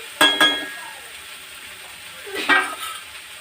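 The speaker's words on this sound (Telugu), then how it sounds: "2 నిమిషాలకు ఒకసారి ఇలా కలుపుకుంటూ ఫ్రై చేసుకోవాలన్నమాట." Okra is stir-fried in a pan, with a few sharp spatula clinks against the metal, two close together and then one more, over a faint, steady sizzle.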